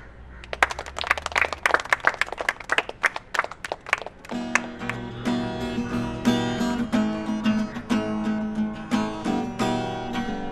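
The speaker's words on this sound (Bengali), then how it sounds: "এই হাততালি দাও, হাততালি দাও বেয়াদব পোলাপান।" Hands clap in a quick, sharp burst of rhythmic claps, then music with a steady beat takes over and continues to the end.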